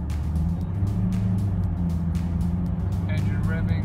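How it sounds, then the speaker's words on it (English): A BMW E90 318 diesel with a slipping clutch holds a steady droning engine note as it pulls off, heard close and continuous, with a brief faint voice near the end. "Engine revving, and the car slowly then pulls off."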